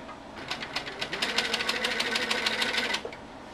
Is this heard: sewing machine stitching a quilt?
yes